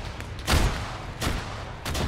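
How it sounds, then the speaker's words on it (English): Bursts of gunfire in the military shooter ARMA 3 crack out in three separate volleys, around the half-second, one-and-a-quarter and near-two-second marks, over a steady background rumble, fairly close and loud. "Open fire."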